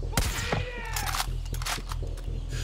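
Far Cry 5 gunfire rings out in a rapid run of sharp shots with metallic clangs and pings, loud and close, followed by scattered impacts.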